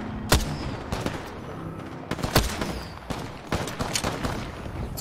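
Gunfire in the battle royale game Apex Legends at the Refinery map: several sharp, loud shots spaced irregularly over a steady background of game ambience, with no talking.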